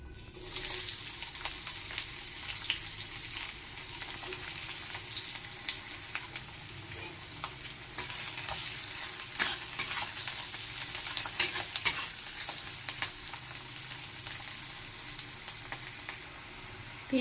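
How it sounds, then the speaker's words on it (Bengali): Chopped onions frying in oil with bay leaf, a steady soft sizzle with intermittent scraping stirs throughout, close and without voices. "এবার দিয়ে দেব পেঁয়াজ কুচি।"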